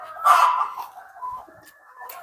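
Andijan black hens cluck in a few soft, close bursts, with a louder run of clucks near the start that trails into quieter calls.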